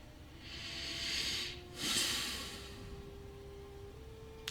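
A singer's breathing exercise brings a slow, soft inhalation that swells and fades, followed by a second airy breath, faint and close with a quiet background hum.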